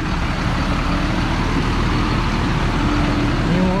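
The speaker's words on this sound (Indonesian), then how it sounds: "Ini motor tangki lumayan tinggi" Tanker truck driving along a flooded stretch of the Trans Kalimantan road in South Kalimantan, a loud steady engine rumble with broad splashing water noise, close by and continuous.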